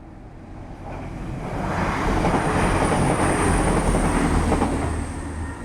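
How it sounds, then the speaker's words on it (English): An express train heading from Manchester toward Leeds rumbles past in the distance, a broad roar swelling to a sustained peak and then easing slightly, with no voices over it. "Looks like the express train, that."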